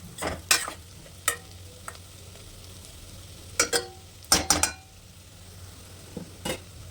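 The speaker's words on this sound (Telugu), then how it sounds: "ఇప్పుడు ఒకసారి మొత్తం కలిసేలా కలుపుకోవాలి." A spoon stirs a potato and carrot fry with coriander powder in a pan, giving scattered scraping clinks and knocks over a faint steady sizzle, close and with no talk.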